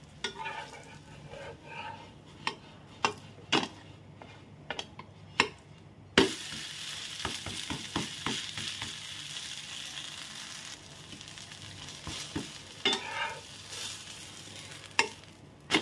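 A tomato omelette frying in oil in a pan, a continuous close sizzle that swells louder midway when oil is added and the omelette is flipped, with sharp clicks and scrapes of a spatula throughout.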